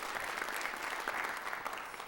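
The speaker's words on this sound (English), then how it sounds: "Round of applause for them, please." A theater audience at a township address applauds its sponsors with steady, dense clapping throughout. The sound is full and sustained, with faint crowd murmur underneath.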